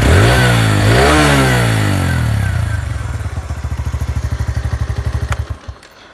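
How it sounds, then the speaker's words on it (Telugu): A TVS Radeon motorcycle engine revs hard and loud up close, then drops back to a deep, bass-heavy exhaust beat that thumps rhythmically at idle before cutting off. "సో టీవీఎస్ బండ్లు అన్నిటికీ కూడా మంచి బేస్ హెవీ ఎగ్జాస్ట్ నోట్ వస్తుంది."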